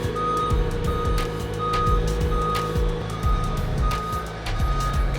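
A delivery truck reverses with a steady string of loud, evenly spaced beeps over a low rumbling diesel engine idling close by, continuous throughout.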